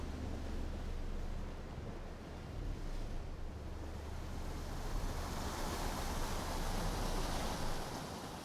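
Rushing white-water rapids roar steadily in the video game Outer Wilds, a dense, broadband wash of churning water that swells slightly in the second half, with no voices over it.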